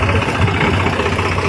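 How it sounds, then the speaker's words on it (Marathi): A farm tractor's engine idles nearby with a loud, steady low chug and a fast even pulsing throb that runs unchanged throughout the short stretch. "हा ट्रॅक्टर आलेला आहे"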